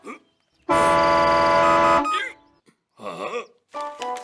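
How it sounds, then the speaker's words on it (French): A loud, sustained cartoon truck horn blast lasting over a second during a horn-volume test, followed by shorter, quieter honks and tonal bursts. "Si tu klaxonnes trop fort et que tu montes dans le rouge, tu es éliminé."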